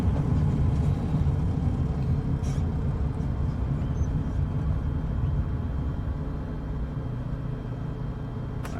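An airplane landing on a runway in Microsoft Flight Simulator: a steady, loud, low engine and rolling rumble that continues throughout and fades slightly toward the end.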